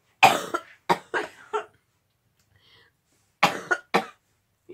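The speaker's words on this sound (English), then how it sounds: "And do ASMR coughing." Several sharp coughs in two bursts with a quiet pause between, close and dry, during a mushroom-eating session.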